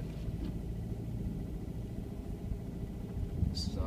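Low steady rumble of a Subaru Impreza WRX on Cooper Zeon RS3-A tires driving through snow, heard from inside the car with a continuous engine and road drone and a faint brief hiss near the end.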